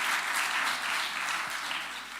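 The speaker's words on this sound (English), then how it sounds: "give a round of applause to Festus for this" An audience at a law society symposium applauds, a dense, even wash of clapping from many hands that holds steady and then tapers slightly toward the end.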